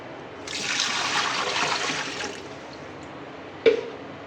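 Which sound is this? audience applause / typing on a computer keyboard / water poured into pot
water poured into pot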